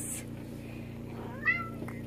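A pet cat gives a couple of soft meows indoors, one short cry near the start and a rising, clearer meow midway, over a steady low hum.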